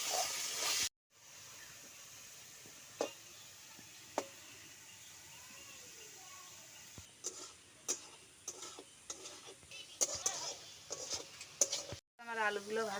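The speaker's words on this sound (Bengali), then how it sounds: "আমি লাল লাল করে আলুগুলো ভেজে নেব।" Potato pieces fry in oil in a kadai until reddish, a soft continuous sizzle broken by scattered clicks and taps of a utensil, with a short silent gap near the end.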